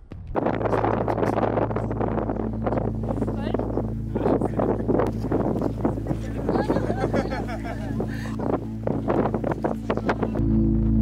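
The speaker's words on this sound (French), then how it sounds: "Il y a beaucoup de vent." Strong wind buffets the microphone in loud, continuous gusts over a steady low engine drone, with a voice talking intermittently underneath.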